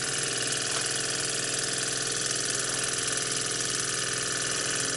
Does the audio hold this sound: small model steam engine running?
yes